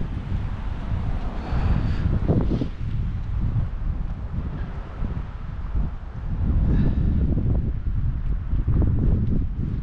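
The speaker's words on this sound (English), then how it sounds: "Windy. It's not cold though." Strong wind buffets the microphone outdoors, a continuous low roar with rumbling gusts rising and falling throughout.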